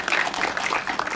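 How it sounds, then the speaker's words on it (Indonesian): An audience applauds at a press event for an Indonesian mystery film set in a women's prison, a brief, dense burst of clapping from a crowd of people. "Tepuk tangan dulu teman-teman."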